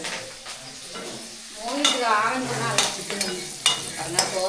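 Cumin seeds crackle and sizzle in hot oil as curry leaves go into the pan, with steady frying hiss, stirring scrapes and a few sharp pops throughout.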